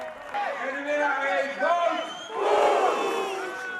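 Roadside spectators cheer and shout at a cycling race finish in Boxmeer, with a loud, swelling crowd roar of mingled voices that surges again near the end.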